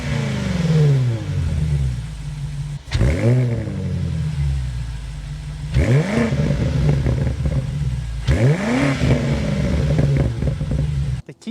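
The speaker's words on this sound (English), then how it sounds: "start it up, so you can hear that exhaust note" A 2026 BMW M5 sedan, a plug-in hybrid performance car, fires up and is revved repeatedly, its exhaust swelling and falling in several loud, close blips over a steady idle.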